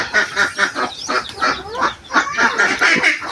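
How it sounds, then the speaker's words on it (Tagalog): Domestic ducks call on a duck farm, a close flock of overlapping, rhythmic quacks in repeated bursts with no voices. "ito sila yung mga naunang mga alagang itik"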